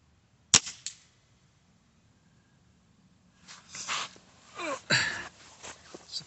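A single sharp crack from an HW97K spring air rifle fired at a 45-yard target, followed by silence and then a few soft handling noises and breaths close by.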